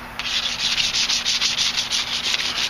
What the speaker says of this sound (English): the finer the sandpaper you use, the better it'll be